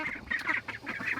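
Growing young ducks on a family homestead, a brief burst of several close, nasal quacks and honks in quick succession.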